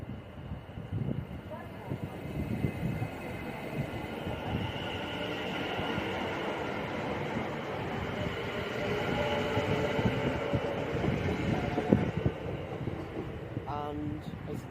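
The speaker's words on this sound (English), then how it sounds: "Here's 730-002 leaving bound for Wolverhampton on time." A Class 730 electric train, unit 730-002, pulls out of a station bound for Wolverhampton with a steady rolling rumble and wheel noise that builds gradually over the full length, and a voice speaks faintly beneath it.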